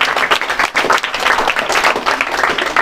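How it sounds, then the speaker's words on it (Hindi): Loud, dense applause from an audience welcoming a student at a class 12 student honouring ceremony, continuous clapping filling the space without pause. "जोरदार तालियों से स्वागत कीजिए इनका"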